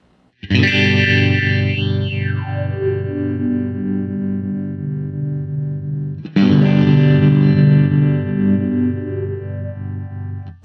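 Chords on a guitar played through a Spaceman Delta II harmonic tremolo pedal ring out as the frequency knob sweeps, giving a warbling, swirling pulse over two loud strummed chords that sustain and fade, with no talking.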